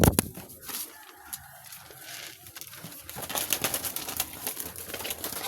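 Pigeons cooing and fluttering nearby, soft murmuring calls mixed with bird chatter and outdoor clatter, moderately close.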